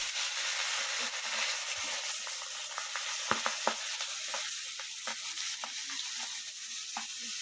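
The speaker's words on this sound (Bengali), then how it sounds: "আর মাছগুলো এখন ভাজা করবো।" Fish seasoned with salt and turmeric sizzles steadily in a frying pan, with intermittent sharp pops and crackles and occasional stirring clinks standing out over the constant hiss.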